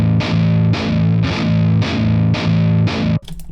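A real guitar amplifier pushes a distorted electric guitar into loud, heavy palm-muted chords repeating in an even rhythm, six strikes before the sound cuts off into a short scratchy tail.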